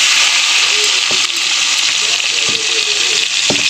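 Chopped onion hits hot oil seasoned with five-spice seeds in a home kitchen, giving a loud, steady sizzle with a few short stirring scrapes and clinks on top.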